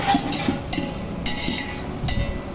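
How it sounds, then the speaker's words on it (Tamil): Onions sautéing in a pan for chicken biryani, with scattered metallic clinks and scrapes of a spoon against the pan over a low, steady background of cooking. "நம்ம இப்போ வெங்காயத்தை வதக்கின்னு இருக்கோம்"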